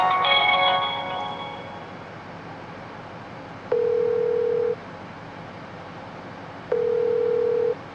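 A phone call being placed: a brief burst of dialing tones, then two long ringback tones about three seconds apart, each lasting roughly a second, clear and steady with no talk.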